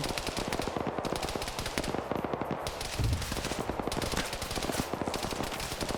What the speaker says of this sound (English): He's not going to hear that machine gun because his machine gunner's firing.